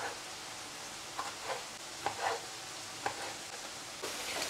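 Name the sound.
sausage cooking in a pan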